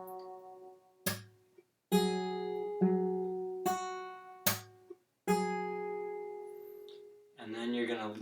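Fingerstyle acoustic guitar playing a song intro, with a series of plucked notes and chords, each sharp attack ringing out and decaying before the next, clear and close.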